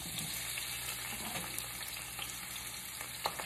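Anaheim chili and green peppers fry in a pan with a steady, quiet sizzle, broken by a few soft stirring scrapes and one sharper clink near the end, with no talking.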